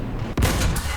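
A tank cannon in the War Thunder video game fires once, a sudden loud, close boom cutting through the quiet rumble and then decaying, with a second sharp report close behind.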